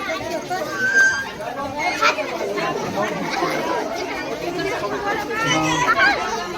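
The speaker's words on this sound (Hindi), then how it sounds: "देखियो वहाँ सब कते भीड़ छै, दर्शक सब आयल छै दूर दूर से देखे के लिए।" A crowd of village spectators gathered at an outdoor film shoot in Mohanpur village chatters in a busy babble of many overlapping voices, with children's shouts and nearby talk rising above the murmur.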